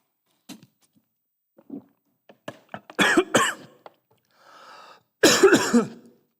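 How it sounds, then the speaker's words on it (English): A person coughs a couple of times, loud and close, among a few faint knocks and shuffling noises in an otherwise quiet room. "Cough for dramatic effect."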